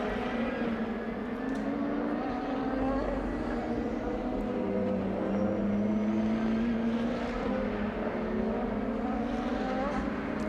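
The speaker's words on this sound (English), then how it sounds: "All 16 cars out on track." DTM race cars lapping the Nürburgring during free practice, a continuous drone of engines from several cars passing at a distance, with pitch swelling and sliding as they accelerate and shift gears.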